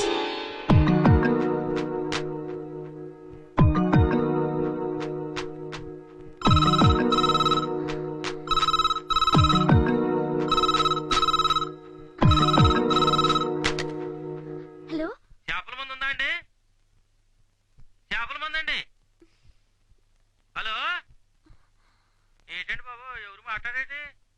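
A telephone rings loudly in a Telugu film drama scene, with repeated bursts of electronic trills over about fifteen seconds. Speech follows in short phrases with pauses between them.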